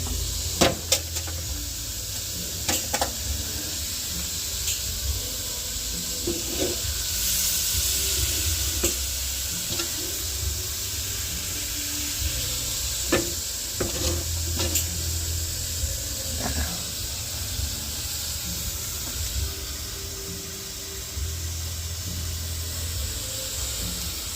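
Cooking oil heating in a frying pan, a steady soft sizzle and hiss running throughout, with occasional faint clicks and pops of spattering and stirring.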